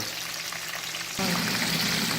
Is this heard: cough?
no